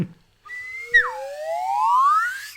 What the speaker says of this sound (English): I love the Swanee whistle.